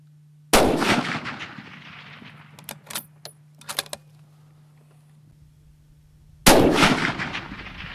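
Two Pride Fowler RR-800-1 rifle shots at a 400-yard target crack out loudly and close, several seconds apart, each with a decaying boom, and light metallic clicks of the action in between.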